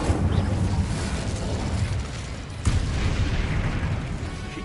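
The Incendio fire spell goes off in Hogwarts Legacy as a dense, roaring burst of rushing flame and rumble, with a sharp crack partway through, loud and continuous with no talk.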